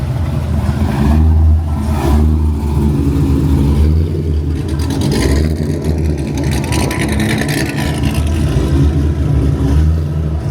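Chevrolet Corvette C8 engine revving at an outdoor car meet, a loud, close rumbling idle that swells into throttle blips, with crowd chatter and other engines in the background.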